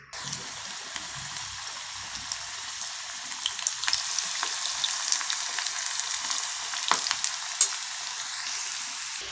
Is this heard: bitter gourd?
yes